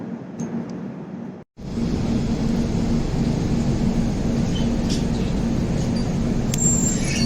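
A steady, heavy rumble of a train running on the tracks, briefly cut off by a moment of silence before the loud roar resumes.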